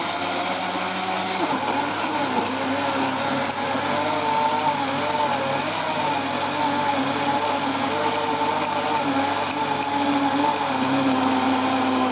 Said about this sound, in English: Beef is one of the few things that actually works in a blender.